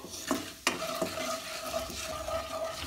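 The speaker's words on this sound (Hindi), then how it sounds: "मसाला को कुछ सेकंड्स मीडियम फ्लेम में भूनना है।" Red chili, coriander and cumin powder masala fries in oil over a medium flame for palak paneer, with a soft sizzle under a few sharp scrapes and clinks of a spoon against the pan.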